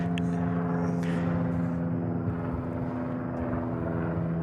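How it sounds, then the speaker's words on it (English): A small Cessna airplane flying pattern work at Tucson International Airport gives a steady, droning propeller-engine hum with strong tonal harmonics, holding fairly constant and moderately distant throughout. "Here's some pattern work. Little Cessna."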